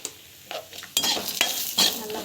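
Cumin and fenugreek sautéing in a pan for pulicha keerai kadayal, with short bursts of sizzle and spatula scraping against metal, close and moderately loud, no talking.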